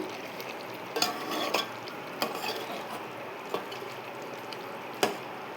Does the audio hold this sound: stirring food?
yes